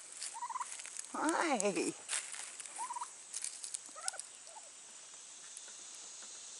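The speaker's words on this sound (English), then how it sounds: "My little turkey friends." Turkeys gobble in short, warbling bursts, one louder nearby call followed by softer scattered gobbles, over quiet outdoor background with a brief spoken greeting.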